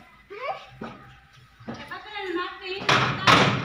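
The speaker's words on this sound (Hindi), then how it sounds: "दरवाजा बंद कर" A door slams shut in a home during Bakra Eid, a solid thump amid a child and adults calling out, loud and close, with excited talk throughout.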